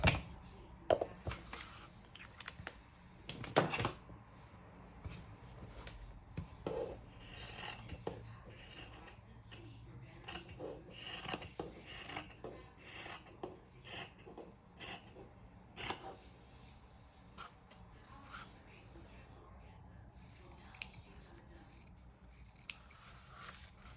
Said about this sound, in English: I love these little snips because they are so sharp and they are really great at trimming threads